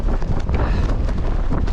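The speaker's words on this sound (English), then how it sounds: "Did I come up here at the windiest point possible?" Strong, gusty wind roars across an exposed mountain summit on the Appalachian Trail near Mount Rogers, buffeting the microphone with a constant loud, close rush and no talking.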